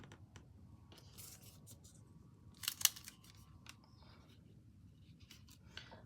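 Scissors snip through scrapbook paper at a craft table in a few quick, close cuts, with sharper snips near the middle, over a low, steady room hum.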